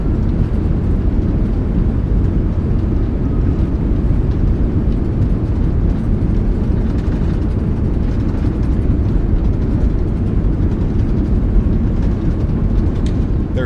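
Simulated Airbus A380 rolling out after landing at Dubai in a flight simulator, thrust reversers deployed: a steady, loud broadband roar with deep rumble that holds constant throughout, with no speech over it.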